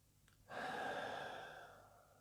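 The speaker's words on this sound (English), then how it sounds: "So let's take a breath." A person draws a deep, audible breath during a calm guided self-awareness exercise, one long airy inhale that swells and slowly fades, close and alone with no talking.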